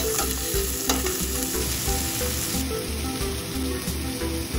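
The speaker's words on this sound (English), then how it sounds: "add in the cut onions and saute until golden brown" Onions sauteing in hot oil with mustard seeds and curry leaves, a steady close sizzle and crackle with soft stirring scrapes, no voices.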